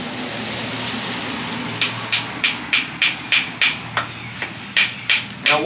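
A hammer drives a dowel into a broken wooden tomahawk handle during repair, about a dozen sharp, evenly spaced taps close by, starting after a quiet pause, no one talking.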